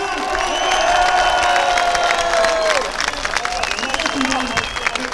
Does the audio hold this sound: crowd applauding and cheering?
yes